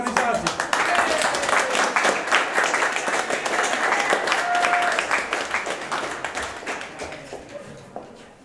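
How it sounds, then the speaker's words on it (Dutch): Audience applause for the organisers of a Dutch-language weekly show, dense clapping running steadily and then thinning out toward the end, with voices mixed in. "Even een applaus voor de organisatie."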